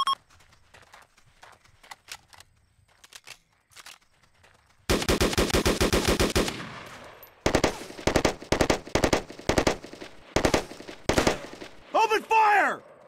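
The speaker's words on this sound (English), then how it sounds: "Open fire!" Video game battle gunfire: a dense volley of rapid shots, then repeated loud bursts of weapons fire in a steady rhythm, close and prominent, with faint voices early on.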